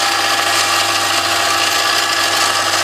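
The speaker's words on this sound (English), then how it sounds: "which is about as fast as the lathe will allow me to go" A lathe spins at about 1300 RPM, its top speed, turning a Dyna ignition setup for a Kawasaki KZ, giving a loud, steady mechanical whir and hum throughout with no break or change in pitch.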